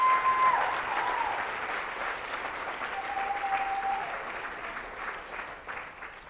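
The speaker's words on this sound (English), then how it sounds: "Let's give them a round of applause" Audience applause at a ZDAY 2013 event in Los Angeles holds a steady, sustained roar of many hands throughout, easing slightly toward the end.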